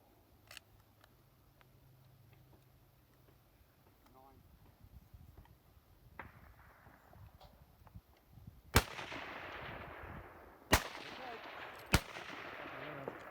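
Rifle shots at a high power shooting match crack out three times, loud and sharp, each followed by a rolling echo over a quiet outdoor background with faint earlier activity.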